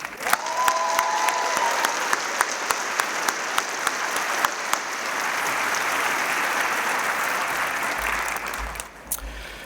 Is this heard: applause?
yes